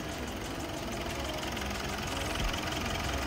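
Mitsubishi Montero SUV with a straight-pipe exhaust and aftermarket intake idling close by, a steady, loud low rumble with a slight swell near the end and no talk over it.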